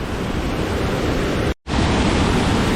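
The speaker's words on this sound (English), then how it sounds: "Tuscarora Falls." Tuscarora Falls, a waterfall in New York or Pennsylvania, roars close by as a steady broadband rush, broken once by a brief dropout partway through.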